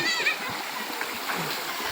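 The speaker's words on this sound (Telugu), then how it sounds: "వంగర గ్రామంలో మినీ వాటర్ ఫాల్, మినీ జారుబల్ల" Water splashes and streams over a small waterfall and slide in Vangara village, a steady near rushing spatter with children's voices faintly mixed in.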